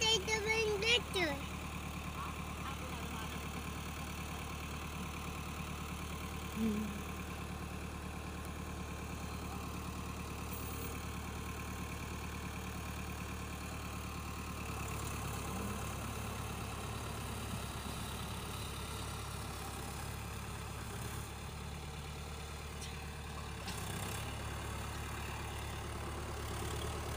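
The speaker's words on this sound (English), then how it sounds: "Daddy is driving the tractor already." An Iseki 7020A tractor engine runs steadily at idle in a corn field, a low continuous rumble throughout with occasional faint voices over it.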